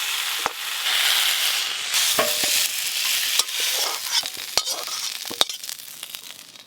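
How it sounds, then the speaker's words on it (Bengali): Potatoes and pointed gourd frying lightly in oil give a soft sizzling hiss, broken by sharp scrapes and clinks as a spatula stirs them in the pan, close and clear with no talking. "আলু আর পটল একদম হালকা করে ভেজে নিয়েছি"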